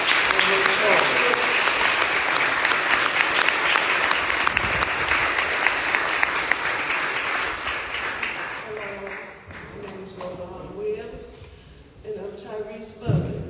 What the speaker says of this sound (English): Y'all please give a big round of applause